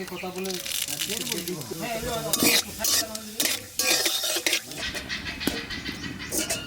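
Cumin seeds and dried red chillies dropped into hot mustard oil in a village kitchen wok, sizzling as a spoon stirs and scrapes against the pan, with a voice talking over it.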